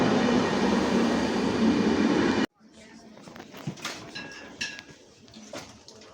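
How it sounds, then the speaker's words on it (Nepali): Baltic Express passenger train in Poland, a loud steady rumble of wheels and carriages that cuts off abruptly, followed by quieter platform ambience with clatters and faint voices. "बाल्टिक एक्सप्रेस आइसक्यो"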